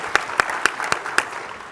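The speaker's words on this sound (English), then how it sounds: "That deserves a round of applause." A few people clap slowly for a panel guest, about five sharp, evenly spaced claps that fade off rather than building into full applause.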